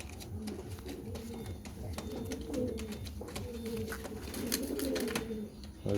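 Pigeons coo close by in soft, repeated rounded phrases, mixed with scattered clicks and rustling from a loft of birds.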